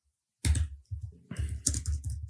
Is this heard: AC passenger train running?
no